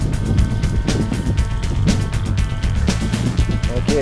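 Small electric motor of an FF-64 Recon RC plane with a KFm2 airfoil, running at about quarter throttle in flight, a steady buzzing drone with some wind noise, moderately loud throughout.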